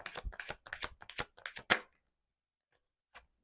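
Tarot cards shuffled and riffled in a quick run of crisp papery bursts for nearly two seconds, then a pause and one soft card draw, close and with no talking.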